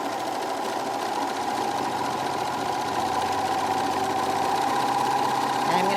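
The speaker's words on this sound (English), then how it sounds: "we're going to just sew off a knit seam" A serger runs continuously with a four-thread stitch on a knit seam, a steady close mechanical hum and rapid chatter at even loudness throughout.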